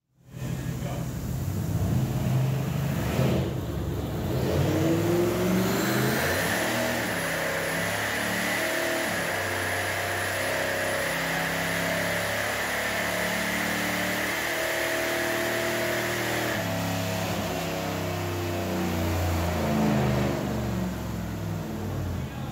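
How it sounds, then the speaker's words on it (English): A 1981 Turbo 4.9 car fitted with a stage 5 turbo builds boost against the brake, then launches hard, its engine roaring and revving loudly and continuously with a whistling turbo tone over the run. "I kind of go on the brake a little bit, try to build a little bit of boost, and then take off from there."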